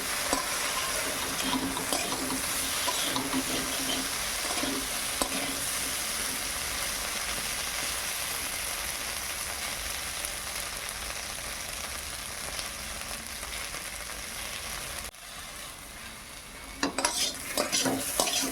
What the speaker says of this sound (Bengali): ভেন্ডি আলুটা আমি ভালোভাবে ভেজে নেই।